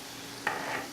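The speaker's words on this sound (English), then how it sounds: "And they're frying pretty good" Fish cakes fry in a pan, a steady close hiss of sizzling oil with a brief crackling spike partway through, no voices.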